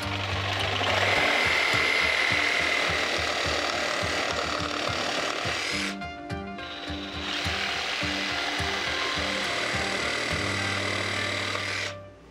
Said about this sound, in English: Trim the field jacket with surgical precision.